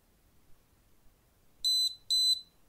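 Two short, high-pitched electronic beeps in quick succession from an Acetech Blaster airsoft tracer unit, each about a quarter second long, over a quiet background.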